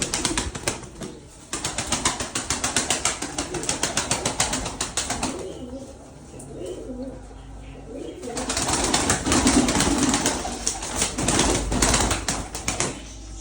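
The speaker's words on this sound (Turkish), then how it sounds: "Birçoğu çatı kuşudur bunların arkadaşlar." Roof pigeons coo and flap their wings nearby: bursts of rapid wing-clapping come and go, with low cooing in the quieter stretch between them.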